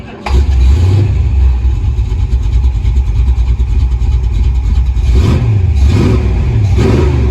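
A 1971 Dodge Charger Super Bee's engine roars loud and close with a stuck throttle, holding a high, sustained rev that swells again in surges near the end.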